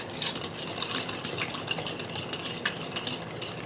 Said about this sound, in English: I'm gonna mix until fully combined